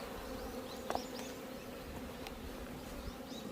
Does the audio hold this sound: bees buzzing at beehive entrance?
yes